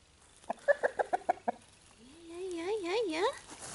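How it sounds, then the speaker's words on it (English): Backyard chickens approaching a feeder on a frosty morning, first a quick series of about seven sharp clucks, then a rising, warbling drawn-out call, fairly close and moderately loud with no talk over them. "Here come the chickens."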